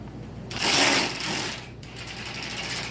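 Ratchet wrench clicking as nuts are tightened, a loud continuous burst of ratcheting followed by a steady run of separate close clicks, no talk.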